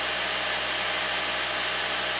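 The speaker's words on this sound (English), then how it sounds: "with the vacuum cleaner." A vacuum cleaner runs loud and close in a room, a constant broadband roaring hiss that holds steady and then cuts off abruptly at the end, with no talk.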